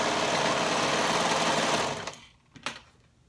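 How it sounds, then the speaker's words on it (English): A sewing machine stitches the short ends of a flutter sleeve together with a 1/2 inch seam, giving a fast, steady mechanical whir close up for about two seconds, then stopping with a few small clicks. "we will sew it together using a 1/2 inch seam allowance"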